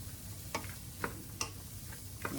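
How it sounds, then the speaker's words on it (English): Celery and carrots cook together in olive oil in a pan for an Italian Bolognese, giving a soft, low sizzle with a few sharp ticks and clicks of stirring spaced across the quiet background. "then I'm going to throw in my celery and the carrots. And we're going to let this all cook together."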